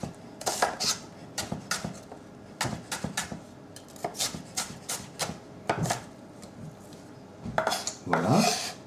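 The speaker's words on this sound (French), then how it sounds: "c'est simplement un oignon que l'on va ciseler, alors pas trop finement, hein. On va faire des petits cubes" A knife chops an onion into small cubes on a cutting board, a run of sharp irregular taps and scraping strokes in bursts, close and fairly loud, with no talk.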